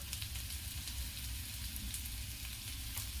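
Dry spices being roasted in a pan for aloo matar, giving off a steady, close crackling sizzle with no voices.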